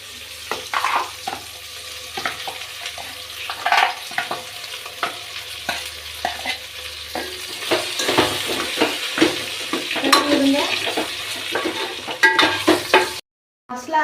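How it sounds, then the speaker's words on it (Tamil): Ground masala spitting and frying in a pan for a brinjal curry, stirred with a utensil that scrapes and clicks irregularly over a steady sizzle. It is close and fairly loud, with no talk. "இந்த ஸ்டேஜில் நம்ம மசாலா போட்டுக்கலாம்."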